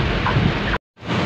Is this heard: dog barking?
no